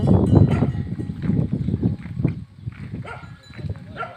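Water buffalo stirring on a rural farm on a cold evening, giving uneven grunts, low calls and shuffling close by, with a faint clank like a bell and occasional distant voices.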